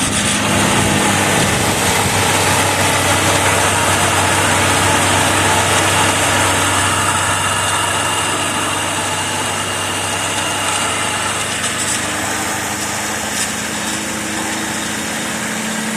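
1984 Cadillac Seville engine idling after its first start during restoration, a steady loud broadband rumble and whir close by that runs the whole time with a slight drop in level midway.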